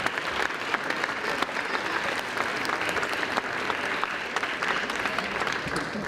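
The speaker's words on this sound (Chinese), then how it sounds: "掌声鼓励鼓励，谢谢。" Continuous clapping from an audience at a children's choir and dance show, dense and steady throughout with no voices over it.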